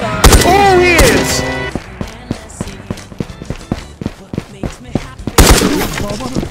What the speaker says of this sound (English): Fuck, I got shot again.